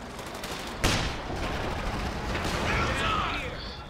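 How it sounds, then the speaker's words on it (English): Machine gun fire in Company of Heroes 2, a dense stream of rapid shots with one sharper burst early on, set among ongoing battle noise and distant rumbling, steady and moderately loud. "machine gun is in place."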